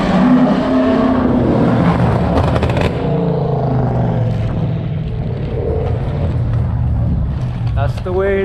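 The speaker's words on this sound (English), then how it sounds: "people hook up their cars to be as loud as possible and they just drive on the street" Loud modified cars driving along 30th Avenue in Astoria, Queens, with a throaty engine roar that swells and fades as vehicles pass nearby. Someone talks over the traffic noise.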